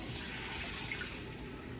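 Water pours steadily into a pasta pan on a kitchen stove while chorizo tomato basil penne cooks, a continuous close splashing rush with no talk.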